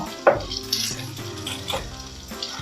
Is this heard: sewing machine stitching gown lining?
no